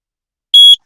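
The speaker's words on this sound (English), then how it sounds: "Now, the second thing is this carbon monoxide alarm." A carbon monoxide alarm in a Volkswagen Transporter camper van sounds its test beep, a single loud, sharp electronic tone lasting about a quarter second, alone in silence.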